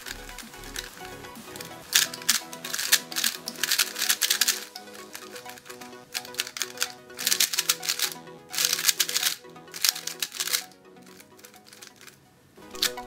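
A Gans 356 Air speedcube is turned rapidly by hand, giving crisp, close clicking and clacking bursts in quick uneven flurries, with short pauses between sequences.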